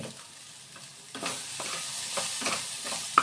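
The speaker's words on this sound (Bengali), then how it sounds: "ফুলকপির সাথে একটু ভাজা ভাজা করে নিলাম" Cauliflower sizzling in a pan as it is stirred, quiet at first, then louder hissing with scraping clicks from a spatula.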